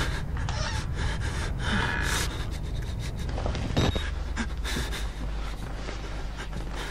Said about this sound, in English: This guy will not stop this breathing